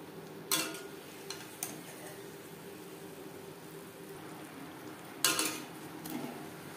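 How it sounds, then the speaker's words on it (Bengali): Moong dal kachuri frying in a pan of oil, a soft steady sizzle beneath a few sharp metallic scrapes and clinks of a utensil against the pan, spaced irregularly. "এভাবে প্রত্যেকটা কচুরি ভেজে নেব।"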